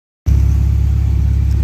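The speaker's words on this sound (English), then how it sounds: "All right, finally time to drive this thing on the road for the first time ever." A K-swapped Honda Integra engine starts up abruptly and holds a loud, deep, pulsing idle-to-rev rumble close to the microphone, steady for over a second with no voices.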